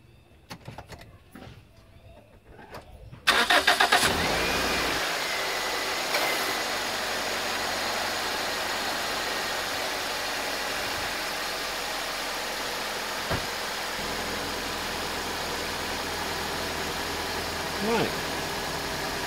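An EJ Holden car engine cranks and catches after a few seconds of quiet handling noises, then settles into a steady, close, even idle that runs on to the end.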